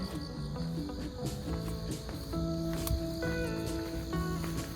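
Crickets chirp steadily in a layered, continuous chorus beside a walking path, moderately loud and close, with no talking.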